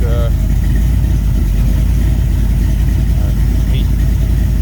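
A rebuilt Mopar 360 V8 idling in a 1939 Dodge Coupe, a loud, steady low rumble with an even, slightly lumpy pulse, close up, with brief voice fragments over it.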